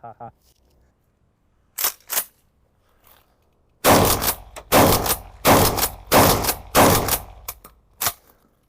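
A Hatsan Escort pump-action shotgun fires a rapid string of loud, close blasts, each cracking sharply with short gaps between them, after a couple of earlier single reports.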